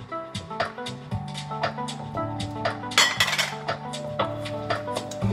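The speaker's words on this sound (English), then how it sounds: "I have to add some pecorino, and then I will continue to whisk" A metal whisk beating grated pecorino cheese into a carbonara egg mixture in a home kitchen, giving quick, rhythmic clinks against the bowl that come close and fairly loud, with a few brief harder knocks mixed in.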